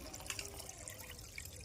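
A kitchen tap runs with water, a faint continuous splash and trickle at low level.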